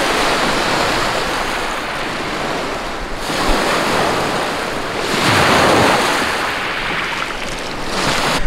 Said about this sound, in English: look at the waves. They look so calm.